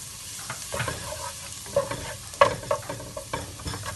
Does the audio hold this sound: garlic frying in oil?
yes